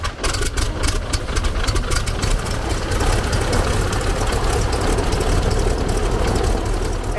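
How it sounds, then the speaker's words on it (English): The radial engine of an Air Tractor S-2A open-cockpit airplane drones steadily and loudly from start to finish, a rough, even, close-up roar with wind buffeting. "It's an open cockpit radial engine and all of the things that come with that."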